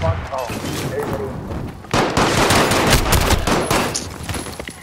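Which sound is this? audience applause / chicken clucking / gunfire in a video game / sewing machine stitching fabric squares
gunfire in a video game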